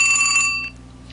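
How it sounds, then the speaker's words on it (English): Vintage telephone ringtone on an LG Octane VN530 phone: a bright, bell-like electronic ring that sounds for about half a second and then stops, followed by a faint tail. "vintage telephone"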